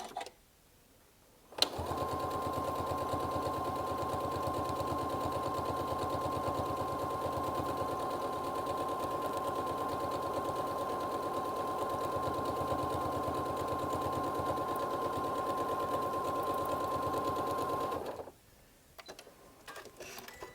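A sewing machine quilts a zippered project in one long, steady run. It hums evenly at close range and then stops abruptly, leaving brief faint handling sounds.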